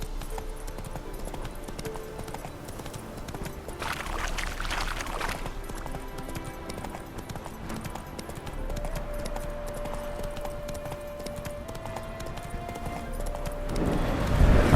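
Hooves of Roach, Geralt's horse in The Witcher 3: Wild Hunt – Hearts of Stone, clip-clop at a steady walking rhythm over a continuous game ambience and music, with no one talking.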